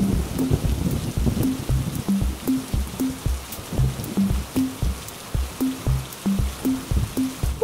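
Steady rain falling in a Bengali cartoon, a continuous soft hiss of drops with a rhythmic low thumping beat running underneath throughout.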